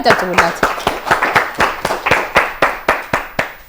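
An audience at a televised children's quiz contest claps for a contestant in a close, steady round of applause with regular, distinct hand claps. A voice is heard briefly at the start.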